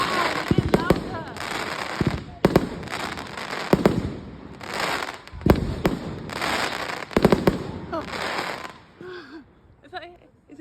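Bonfire night fireworks and bangers in Beverley on 5 November, with repeated sharp loud explosions and crackling bursts coming in clusters, echoing outdoors, while people talk and exclaim between the blasts.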